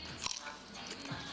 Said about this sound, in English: We'll hear the crunch.